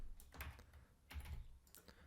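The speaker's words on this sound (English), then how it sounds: "I'm going to click on letter T on my keyboard, click with my mouse" Keys clatter on a computer keyboard alongside mouse clicks at a desk, arriving in short bursts of a few taps with quiet gaps between them, close and fairly soft, with no voice over them.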